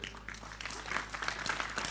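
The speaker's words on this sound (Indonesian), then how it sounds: "tepuk tangan untuk kelompok kedua" Applause for a student group presenting in a discussion session, light, scattered clapping from a small audience that builds somewhat over two seconds with some background voices.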